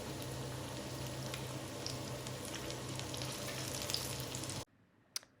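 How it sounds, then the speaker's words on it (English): Hot oil sizzles and crackles steadily as a breaded chicken schnitzel fries in a pan for several seconds, then cuts off abruptly, leaving a faint click. "now you can hear the sizzle"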